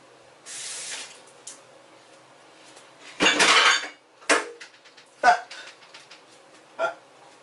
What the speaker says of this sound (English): So I'll put the protein scoop in there.